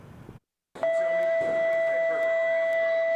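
A sharp electronic school bell tone rings out loud and sustained after a brief silence, holding a steady pitch against faint background chatter at an elementary school.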